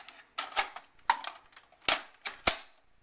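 Sharp plastic clicks as a cable is slid under and locked into place inside a Dell Optiplex GX280 during a power supply swap, five or six crisp snaps spaced about half a second apart, close and alone.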